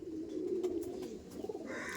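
Village pigeons coo in a low, rolling murmur close by, with a few brighter chirps and small clicks toward the end.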